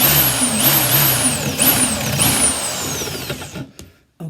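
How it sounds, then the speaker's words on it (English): A precision power drill works through model parts in several short bursts, each with a whining pitch that swoops up and down, before the motor stops and it goes quiet. "now we'll drill each surface and put them together"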